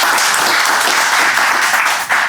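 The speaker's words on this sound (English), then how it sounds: "Please give him an applause, guys." Audience at a real estate debate panel applauds a panelist, a dense, steady wash of clapping that runs loud and close throughout.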